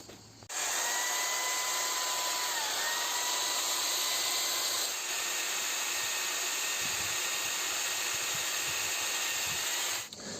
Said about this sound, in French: et avec aussi la perceuse sur laquelle je vais y mettre